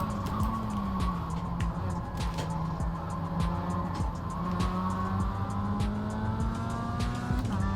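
A race car skids on a track, with tire squeal over a steady, loud engine drone that runs throughout at close range.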